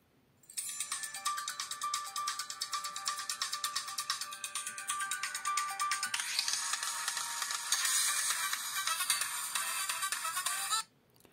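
Melodic ringtone from the tiny piezoelectric speaker of a Samsung Gear S3 smartwatch, thin and buzzy, playing continuously for about ten seconds before stopping abruptly.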